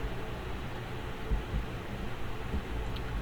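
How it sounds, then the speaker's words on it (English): Steady broadband whooshing hum, like an electric fan running nearby, continuous and even with faint low thumps, no voices. "I apologize if you hear the fan in the background."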